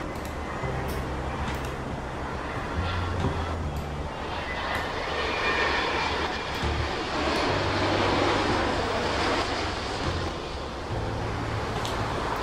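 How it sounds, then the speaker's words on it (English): A Boeing 787 Dreamliner in Microsoft Flight Simulator gives a steady, loud jet engine roar with broad rushing noise and a low drone, sustained and unbroken with no talk. "We've got a Dreamliner coming in."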